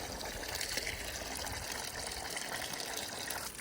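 Water gushes from a garden hose in a steady, continuous rush, fairly close and moderately loud, with no voices heard.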